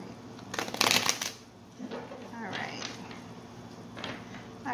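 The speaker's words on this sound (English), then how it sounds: "I'm going to shuffle one more time." A deck of tarot cards is shuffled in a close, loud burst of riffling near the start, followed by softer card handling and a faint voice.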